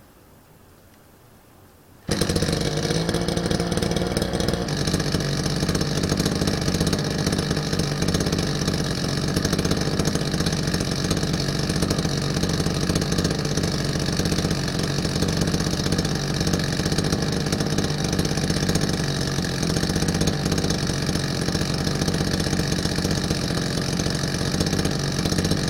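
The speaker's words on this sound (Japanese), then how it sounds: "事前に撮影しといたノーマルマフラーの音を聞いてください" A brush cutter with its stock muffler starts up after a moment of quiet, then runs steadily at a loud, raspy, buzzing idle close by for the rest of the stretch.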